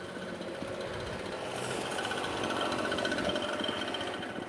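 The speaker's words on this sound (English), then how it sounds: "there's a leaf blower here just cleaning up a little bit" A leaf blower runs nearby, cleaning up outdoors, giving a steady droning engine whine that swells slightly louder midway and holds without pause.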